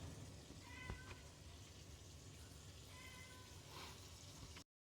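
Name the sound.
cat meowing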